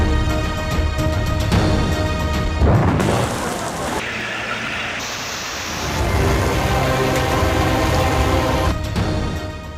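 Heavy rain pours down in Peshawar, a dense continuous hiss of downpour with a rumbling, shifting wash in the middle, loud and steady throughout.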